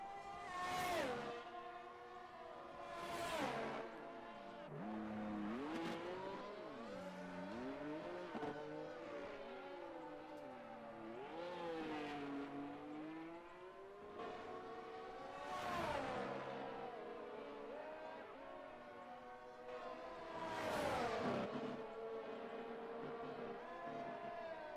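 An F1 car on a qualifying lap at the Chinese GP in a racing video game, its engine screaming in long rising and falling sweeps through upshifts and downshifts, loud and close with sharp peaks at each gear change.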